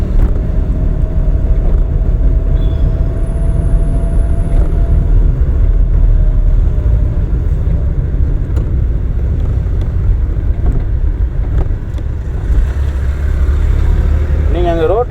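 A car engine runs steadily during a driving lesson, a loud, close, continuous low drone that holds throughout with little change in pitch.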